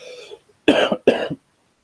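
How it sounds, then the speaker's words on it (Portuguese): Two harsh, loud coughs in quick succession from a man teaching a Brazilian history lesson, close to the microphone, after a moment of quiet. "Desculpa a tosse."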